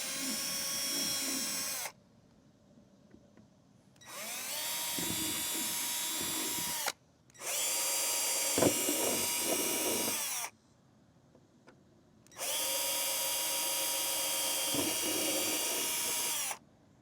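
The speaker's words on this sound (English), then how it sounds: "So we got these spots marked off, and I can actually start drilling my hole." A power drill bores holes into an enclosed trailer door in four separate runs, each a few seconds long, its high steady whine loud and close with short quiet pauses in between.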